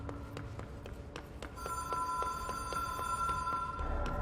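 A telephone in the video game Control rings with bright, repeated electronic bell tones that start partway through and continue steadily over a low ambient hum.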